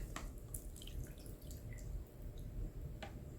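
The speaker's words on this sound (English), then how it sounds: "I also pour 2 cups of water" Water poured into a container over charcoal and lemon, soft splashing and dripping with scattered small drops, close but faint, without talking.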